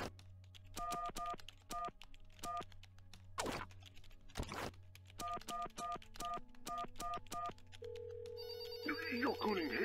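Repeated electronic phone ringing in the video game There Is No Game, bursts of trilling tones in steady rhythm separated by short gaps and a couple of sharp noise bursts, ending in a high sustained tone.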